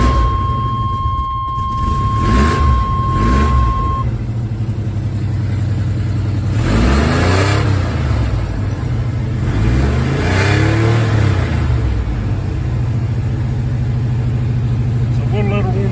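A car engine fires up and revs in bursts while warming up, rising and falling a few times, loud and close, with people talking over it.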